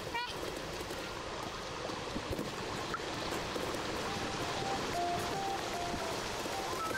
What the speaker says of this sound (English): The soothing sound of trash falling, shimmering waterfalls